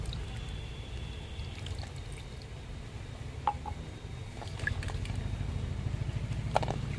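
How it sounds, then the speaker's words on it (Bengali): Peeled keora fruit being washed in a bowl of water gives faint, soft splashing and trickling over a low background hum. No one speaks. "কেওড়াগুলো ছাড়িয়ে নিয়েছি এখন এগুলোকে ধুয়ে নেব"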